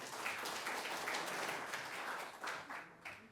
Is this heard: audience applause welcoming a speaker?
yes